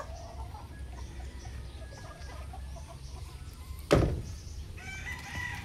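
A seven-month-old False Spark Gray gamecock rooster gives a single short, sharp call amid faint outdoor background and distant bird sounds.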